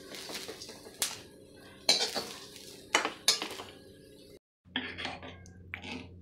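Roasted spices are scraped with a metal spoon from a pan into a steel dish, giving a series of sharp clanks and scrapes at irregular intervals, close and distinct, with a brief silence before more clinking.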